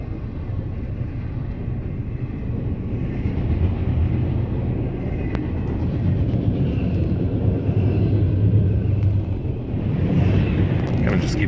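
A train rumbles past nearby, a heavy low roar that holds steady and swells slightly toward the end, with faint squeals over it.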